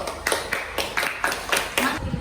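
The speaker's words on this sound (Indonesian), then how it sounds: "Kasih tepuk tangan untuk temannya yang maju." A class of pupils claps for a classmate who has just presented, several soft bursts of hand claps in a loose rhythm, fairly near, with no one speaking over it.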